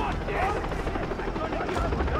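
Heavy rotor chop from a helicopter in the video game Far Cry 3 rumbles loud and steady underneath a player talking.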